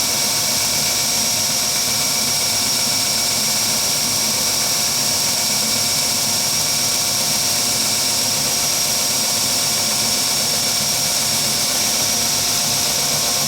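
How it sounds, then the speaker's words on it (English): A belt sander grinds wood into an oval shape for an Apple Watch charging stand, giving a steady, loud, high whirring hiss that runs unbroken with no speech. "using the belt sander, we are just going to sand around up to our line to shape our charger in that oval shape"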